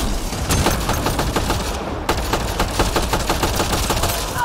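Rapid gunfire in the sci-fi shooter game Mass Effect Andromeda, a loud, dense stream of sharp shots firing continuously and close up with barely a pause.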